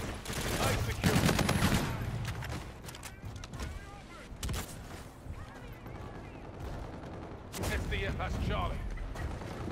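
Gunfire from a multiplayer shooter game fills the mix in dense, repeated bursts, with players talking over the shooting throughout.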